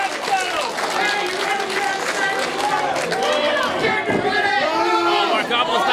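Wrestling match crowd cheering, shouting and clapping loudly and continuously in an arena, a dense roar of many voices with scattered claps throughout.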